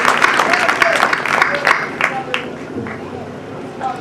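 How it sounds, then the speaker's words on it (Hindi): Audience clapping for children at a Rajput trust family gathering in Gorakhpur, a dense burst of applause with scattered sharp claps that thins out toward the end, voices mixed in. "तालियां बजाइए, ये बच्चों के लिए है जो हमारे घर में रहते हैं, हमारे अपने बच्चे"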